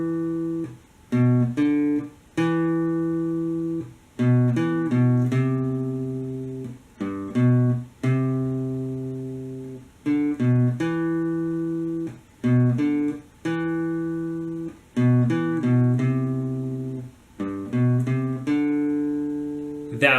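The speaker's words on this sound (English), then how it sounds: "So the entire thing slowed down sounds like this." Slow clean guitar picks out a melody, with single plucked notes and short phrases separated by brief pauses, ringing out close and clear for about twenty seconds without talk.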